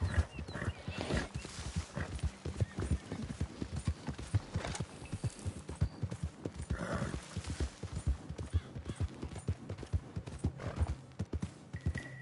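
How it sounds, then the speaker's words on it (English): Horses in Red Dead Redemption 2 Online clop along in a steady rhythm of hoof beats, with a couple of snorts or whinnies mixed in, close and clear. "we're going to go and steal these horses"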